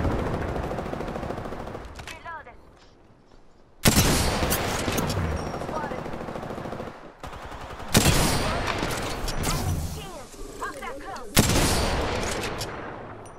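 Heavy bursts of video game combat gunfire and explosive airstrike blasts crash in loud waves separated by short lulls, with players' voices faintly underneath.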